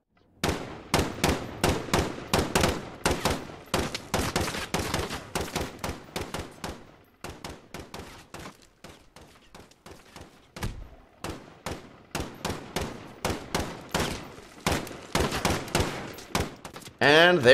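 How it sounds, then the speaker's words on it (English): Single gunshots fired in Call of Duty Warzone ring out as a steady series of sharp cracks with brief gaps. They sound loud at first, drop quieter through the middle as the effects volume is lowered, then return louder near the end. "So my friend is going to keep shooting at me, single shot"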